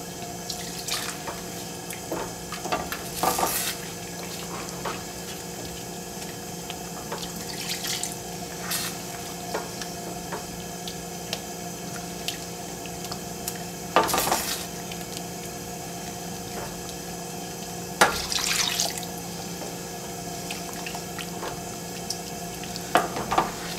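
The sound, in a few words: stirring sauce with stock in a pot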